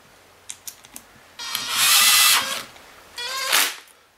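A small screw on a Kirby Avalir vacuum's transmission bracket is tightened, giving a few light clicks followed by two short, loud buzzing bursts of a powered driver.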